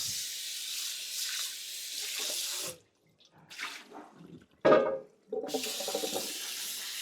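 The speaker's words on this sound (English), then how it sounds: "I'm gonna dump it back into the colander and we're gonna get rid of all of those skins and the calcium hydroxide. We're gonna rinse our bowl." Running tap water rinses a bowl and nixtamalized corn in a colander, loud steady flow broken by a pause, brief splashing bursts, then the stream resumes strongly.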